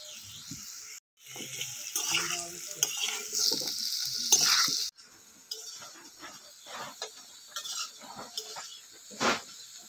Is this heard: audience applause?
no